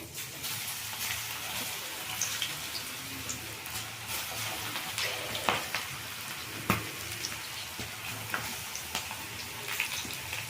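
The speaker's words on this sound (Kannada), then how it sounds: "ಎಣ್ಣೆಗೆ ಹಾಕ್ಕೊಳ್ತೀನಿ ನೋಡಿ" Okra coated in cornflour fries in hot oil with a continuous, busy sizzle and scattered crisp pops, steady and close throughout.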